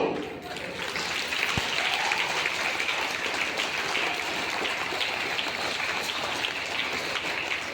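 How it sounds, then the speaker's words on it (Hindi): Audience clapping at an event in a marriage hall, a broad, even wash of many hands heard at some distance, sustained and steady, without speech over it. "तालियां बजाने में कोई कंजूसी नहीं।"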